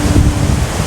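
Roaring white noise of a waterfall heard from its base in Sendai, Japan, with heavy spray in cold, rainy weather; a steady, broadband rush that fills the whole clip without a break.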